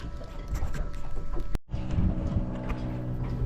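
A Volvo Penta D2 55 diesel engine on a 10.40 sailboat runs steadily up close, a loud low rumbling drone with a knocking texture, briefly dipping before resuming at the same pace.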